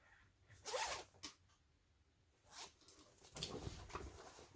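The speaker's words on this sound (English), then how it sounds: "just zip it up and just make sure that your front and back seams match along the zipper" A zipper on a sewn fabric bag is pulled along in a few short, quiet rasping strokes with brief pauses between them, heard up close in a calm room.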